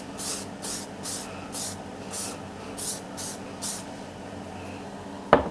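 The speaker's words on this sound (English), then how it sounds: "So I'm going to spray indoor here." Short hissing bursts from an aerosol can of clear coat, sprayed indoors, about eight even sprays in a steady rhythm, fairly quiet, followed by a sharp click at the end.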